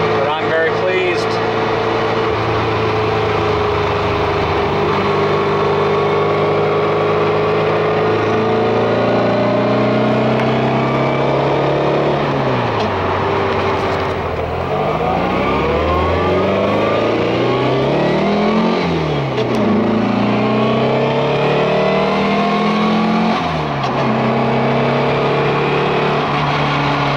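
A Volkswagen car engine pulls hard through the gears after a transmission upgrade, revs rising and falling in repeated sweeps with shifts between them, loud and close throughout, with a voice talking over it.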